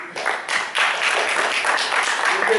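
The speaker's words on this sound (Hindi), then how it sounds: "इनका भी स्वागत कीजिए जोरदार तालियों के साथ" An audience claps to welcome a participant at a nutrition role-play event, a dense burst of applause that starts abruptly and holds steady for a couple of seconds.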